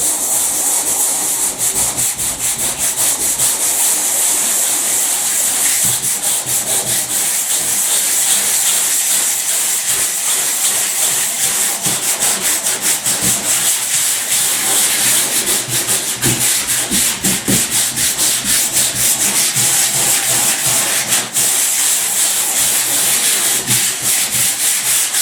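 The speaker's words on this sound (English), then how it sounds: "I'm going to rub down half this wall with the hand sander." A hand sander rubbing down a painted silk emulsion wall, a steady loud abrasive scratching and hissing that runs continuously with quick rhythmic strokes.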